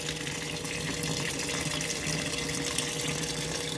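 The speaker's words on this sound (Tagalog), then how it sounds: "But malakas ng tubig, oh." Tap water gushes strongly into a basin during hand laundry at home on a rainy day, a steady, loud, close rushing flow that continues unbroken throughout with no talking.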